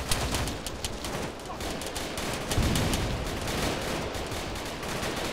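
A continuous, heavy exchange of rifle and machine-gun fire in the military shooter Arma 3. Overlapping shots form a steady dense roar with no real pauses, partly near and partly distant.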